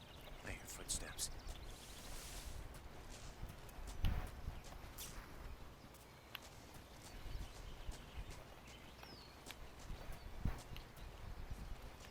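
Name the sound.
footsteps in Metal Gear Solid Delta: Snake Eater video game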